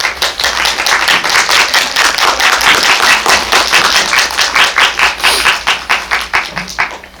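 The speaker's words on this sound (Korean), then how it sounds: "큰 박수로 맞이해주세요." Dense, sustained audience applause at a Korean film screening and talk event welcoming a news announcer to the stage, loud and close with many hands clapping steadily throughout and a few faint voices underneath.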